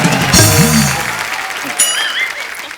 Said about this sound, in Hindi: जोरदार तालियां टाइगर भाई के लिए।